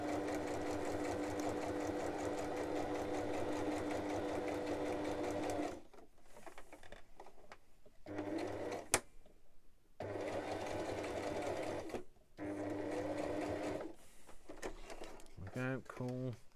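A sewing machine stitches fabric in a fast, steady whirring run, stops for short pauses, then starts up again in bursts, close and fairly quiet, with a sharp click in one gap.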